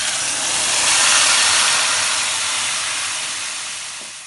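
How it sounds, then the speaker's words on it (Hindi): Mashed tomatoes hit hot, spice-infused oil in a pan for tomato chutney, releasing a loud, continuous hissing sizzle that swells in the first second and slowly eases off. "हम टमाटर ऐड कर देंगे"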